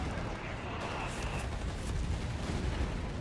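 Mortar half-tracks firing in the Company of Heroes 3 strategy game, a rumbling wash of distant artillery booms and blasts, faint and continuous, with game battle noise throughout.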